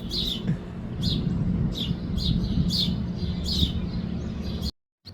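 Several birds chirp in repeated short bursts along a hiking trail while a parent bird feeds its fledglings, calls standing out over steady low outdoor rumble before a brief dropout near the end.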